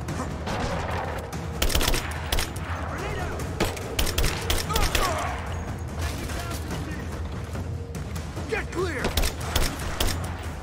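Dense gunfire from Rise of the Tomb Raider: rapid volleys of automatic shots and scattered single cracks crowd the whole stretch, layered over a rumbling low din, with game voices shouting briefly underneath.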